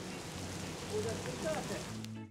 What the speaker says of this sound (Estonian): Siit tervitab meid vihm.